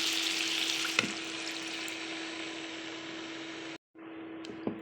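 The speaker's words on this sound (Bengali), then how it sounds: "এখন ভালো করে নেড়ে নিতে হবে" Star fruit chutney with sugar, turmeric and water sizzles steadily in a pan, with a couple of faint spoon scrapes and a brief break in the sound near the end.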